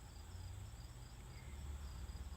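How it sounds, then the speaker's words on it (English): Crickets chirp in a steady, continuous trill in a quiet room, faint overall with a low hum beneath and no voices. "I can hear crickets like really loudly right now"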